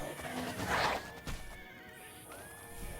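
A horse in the video game Oblivion whinnies loudly while fighting a wolf, a long rising neigh followed by a second shorter call, with faint game background sound and no talk.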